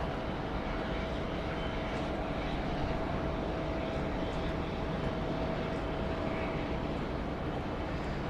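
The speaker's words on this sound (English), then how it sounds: "A320 Jetstar off to Proserpine this afternoon" A Jetstar Airbus A320 takes off from Sydney Airport, its jet engines a distant, broad, steady roar with a faint whine running through it, no talk over it.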